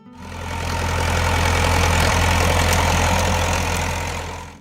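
The Perkins A4.248 diesel of a Massey Ferguson 675 tractor runs at a steady idle, a close, even clatter with a low rhythmic throb, swelling in and fading out at the edges.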